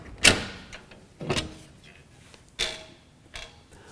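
The door panel of a Honeywell electronic air cleaner beside a home furnace is pulled off: a few separate sharp metallic clacks and scrapes, close and fairly loud, with quiet gaps between them.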